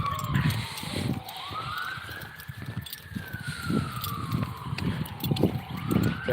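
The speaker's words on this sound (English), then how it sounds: "I hear police sirens." A police siren wails in the distance, rising and falling slowly, partly masked by wind or road noise.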